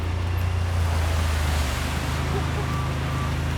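An off-road vehicle splashes through water on a newbie trail at a Texas off-road park, a steady broad wash of water and wind noise with a low engine rumble underneath, fairly close and continuous.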